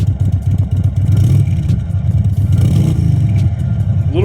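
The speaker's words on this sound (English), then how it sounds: "the Chief sounds a little bit better stock than the Lowrider S does" An Indian Sport Chief motorcycle on its stock exhaust idles and revs nearby, a deep, loud, lumpy V-twin rumble with uneven pulsing beats throughout, and nobody talking.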